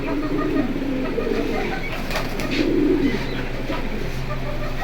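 Pigeons in a collection coo softly and repeatedly at close range, with low rolling calls rising over a steady background hum.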